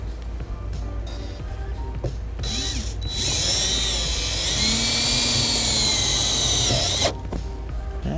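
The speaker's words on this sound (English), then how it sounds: "So go ahead and grab my drill." Power drill driving a ground screw into the body of a 2014 Honda Odyssey during trailer wiring installation: a few short clicks and bursts, then a loud, close, sustained whine lasting about four seconds before stopping.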